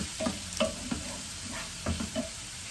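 Minced meat fries in a pan with a soft steady sizzle, while a utensil stirs and breaks it up in several quiet scraping clicks, with no talk.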